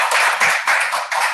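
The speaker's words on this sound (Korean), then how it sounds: "우리 김 박사님 다시 한번 감사드리고 박수 한번." Audience applause for a guest lecturer at an expert lecture event, steady dense clapping with a slight swell and dip through the short burst, loud and close, no voices over it.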